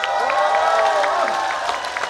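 A crowd at an outdoor trot concert during the Gyeongsan Jain Dano festival applauds and cheers loudly, a dense, sustained wash of clapping with scattered whoops that eases slightly toward the end.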